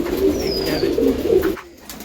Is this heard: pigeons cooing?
yes